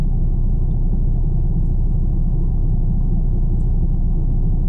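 Car engines idle in heavy snow in Istanbul, a loud, steady low rumble that holds constant and close throughout with no talk.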